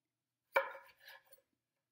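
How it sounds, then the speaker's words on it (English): A chef's knife slicing lengthwise through a butternut squash: one sharp close crunch as the blade bites in, then a shorter grinding follow-through and a small final tap on the board, alone in silence. "I'm going to take my chef's knife and I'm going to cut it lengthwise"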